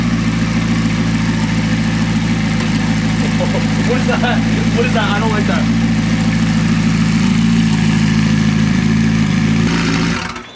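A McLaren sports car engine idles with a steady, loud low drone, tuned for an 8500 RPM limit, while people talk briefly over it before it cuts off at the end.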